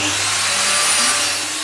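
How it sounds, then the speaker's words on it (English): Mafell 900 watt circular saw cutting 40mm wood along a guide track, a steady, close motor whine with a broad hissing cut noise that holds evenly throughout. "the 900 watt motor has more than enough power to cut 40mm material"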